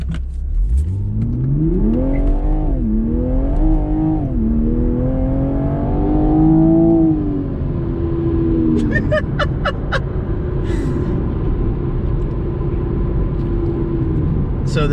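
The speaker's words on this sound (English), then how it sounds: "So this is the first time she's gone for a ride in the Supra" A 2021 Toyota Supra's engine revs and climbs through rising, falling pitch as the car drives, then settles into a steady cruising drone, with a few sharp clicks later and people talking inside the car.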